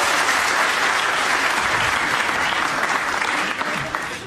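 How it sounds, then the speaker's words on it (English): A theatre audience at a comedy show in Bungay gives loud, dense applause, many hands clapping continuously before tapering off near the end. "Round of applause for Les."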